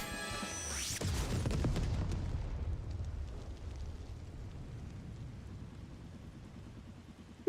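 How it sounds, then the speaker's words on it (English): Fireworks over a lake, a bright crackling burst and then deep booming rumbles that fade into a long low decay, heard at a distance. "Nice fireworks."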